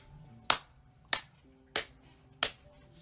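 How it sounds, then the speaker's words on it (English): Hands clap four times at an even, unhurried pace, each clap a sharp single crack close by, with faint background tones in between. "We clap our hands."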